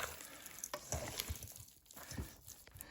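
Pork and lard are stirred in a frying pan, giving a quiet sizzle broken by scraping and clinking strokes that come at an irregular pace.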